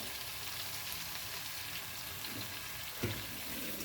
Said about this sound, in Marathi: तर आता मी भांडं धुवून टाकते